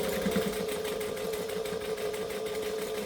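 A sewing machine stitches through a bag at a slow, steady pace, with a continuous close mechanical whir and a fast rhythmic needle pulse running unbroken throughout.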